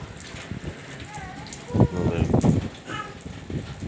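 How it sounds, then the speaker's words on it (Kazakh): Rain patters steadily on a metal house roof in Zhanaozen, with louder clattering bursts of drops, while a voice speaks faintly in the background. "Сол салдырлап осы жауын тиіп салдырлап жатыр екен ғой."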